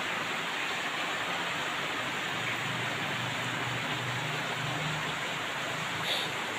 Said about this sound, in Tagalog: Hindi po basta-basta ang ulan to.